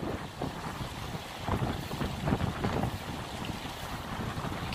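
Gusty wind blows steadily across a river during a fly-fishing outing, a continuous rushing roar that buffets the microphone with no voices present.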